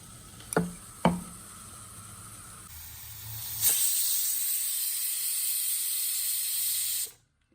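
A pressure cooker full of mutton curry vents steam after a couple of sharp clicks: a loud, sustained hiss rushes out for several seconds at close range, then cuts off abruptly.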